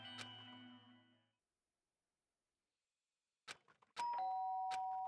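After a burst of game music and a stretch of silence, a clear electronic doorbell chime rings out in the Danganronpa: Trigger Happy Havoc video game, with sustained bright tones.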